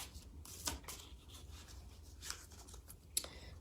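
Oracle cards being shuffled by hand, a soft papery riffling and rubbing with a few sharper slaps, close and fairly quiet.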